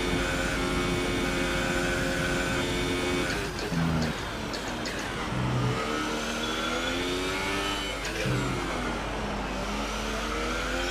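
A Ferrari-powered Haas F1 car in the F1 2018 racing game runs flat out, its high-pitched engine screaming and climbing through the gears, with brief dips at the shifts, close and loud throughout.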